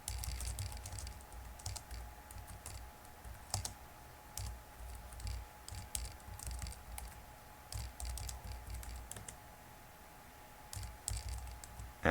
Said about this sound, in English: it will prompt me for my passphrase, which I will type in